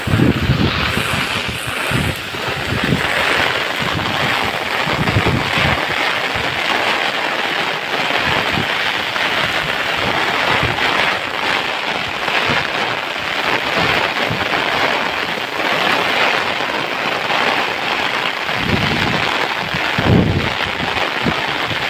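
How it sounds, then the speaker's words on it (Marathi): A torrential Konkan monsoon downpour roars steadily and loudly, with gusts of wind buffeting the microphone and occasional low rumbling thumps beneath the constant hiss of falling water. "हा बघा, जोरात पाऊस आहे."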